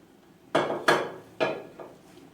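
Metal pot on a stovetop handled while rice pilaf is started with oil, giving four sharp clanks and knocks: two close together, a third after a short pause, then a fainter fourth, each ringing briefly before fading.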